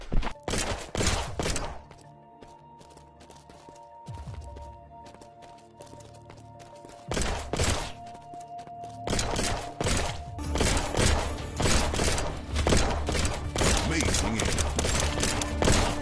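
Bursts of gunfire from a VR shooting game played on an Omni One treadmill, loud, rapid volleys in clusters, with a quieter stretch in the middle and game voices now and then.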